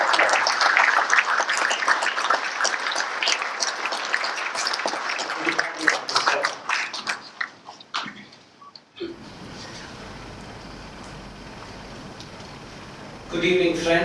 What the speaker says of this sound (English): Friends, please give this towering personality a huge applause.